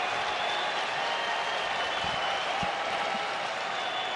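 A ballpark crowd at an Athletics vs Angels baseball game keeps up a steady, dense roar of cheering and applause at night, with a broadcaster's voice faintly audible beneath the noise.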